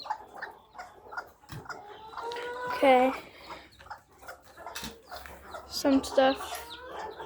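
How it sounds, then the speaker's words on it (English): A bunch of chickens on a small farm clucking and squawking, with a couple of loud crowing calls standing out, while a person talks nearby. "Bunch of chickens there."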